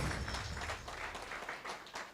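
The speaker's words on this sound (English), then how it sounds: "Our chief guest, Mr. Mickelson, can we please give him another round of applause?" Audience at a business luncheon plenary session in Kenya applauding, a dense, fairly quiet wash of clapping from across the room lasting a couple of seconds.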